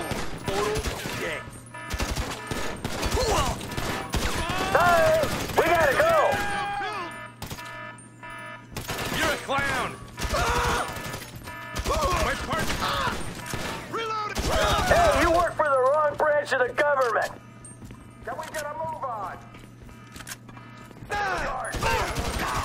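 Gunfire breaks out during a GTA V shootout in several bursts of loud shots, separated by quieter gaps, with someone talking over much of it.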